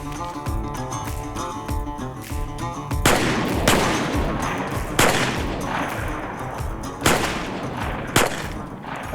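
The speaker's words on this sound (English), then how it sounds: "and then you'd be directed to shoot." Shotgun blasts at a church turkey shoot: a run of sharp, loud reports, some closely spaced and others a second or more apart, each ringing briefly over the echo of the last.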